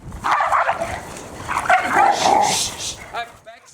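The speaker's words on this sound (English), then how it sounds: "my little dog is trying to get Bex away from her" A small dog yips and whimpers excitedly up close beside a Rottweiler, mixed with human voices talking over the commotion.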